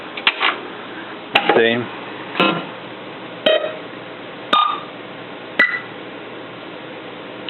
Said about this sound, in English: all the solenoids are firing, which is what you want to see